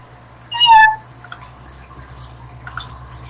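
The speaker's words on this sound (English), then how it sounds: "We have the cat in the audience, everyone." A single clear cat meow rises briefly near the start, close and fairly loud, then fades into a quiet room with faint background hum.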